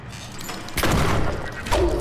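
Two heavy shotgun blasts go off in the survival horror game Tormented Souls: a loud booming shot about a second in, then a second punchy blast near the end, each with a short decaying tail.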